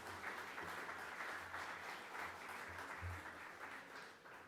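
Audience applause at an awards ceremony for a government data hackathon, steady clapping throughout with a low rumble underneath, fairly faint and distant.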